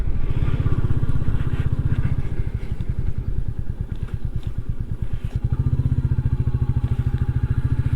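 A Royal Enfield Meteor 350 motorcycle, freshly valve-adjusted with a modified air filter, thumps along on a ride with a loud, steady low single-cylinder pulse that dips briefly mid-way then picks back up, close and without talk.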